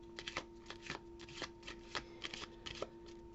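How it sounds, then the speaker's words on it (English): Tarot cards are shuffled by hand in quick riffling bursts, a rapid, irregular patter of soft card flicks, close and quiet, with no talk. "So I'll pull us a daily healing card just to finish up."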